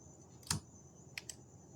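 A few isolated keystrokes on a computer keyboard while Python code is typed: one crisp click, a pause, then two quick taps. Faint and close, with a quiet room hiss underneath.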